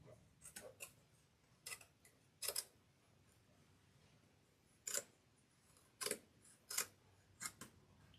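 Scissors snip along the glued edges of a faux twig mushroom door hanger kit, making sharp, close, isolated clicks in small irregular clusters with quiet pauses between cuts.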